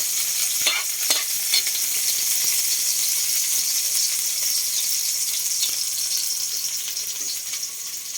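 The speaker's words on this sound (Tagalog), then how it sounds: "Lagyan natin sibuyas." Onion sautéing in a pan for mung bean stew, a bright continuous sizzle with scattered scrapes and taps of a spatula stirring, close and steady, easing slightly toward the end.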